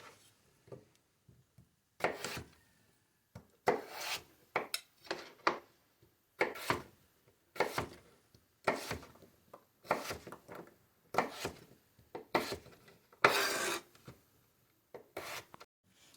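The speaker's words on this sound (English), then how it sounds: "our potatoes and our onions are chopped into about 1/2-inch cube sizes" A knife chopping potatoes into half-inch cubes on a cutting board: a steady series of short, close, crisp knife strikes, coming singly and in quick clusters, with quiet gaps between them.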